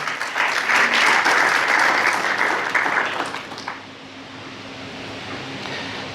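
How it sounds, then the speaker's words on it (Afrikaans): A church congregation applauds loudly with dense, sustained clapping for about three seconds, then the clapping fades into a quieter room hiss. "Kan ons 'n hande klap vir die Here gee?"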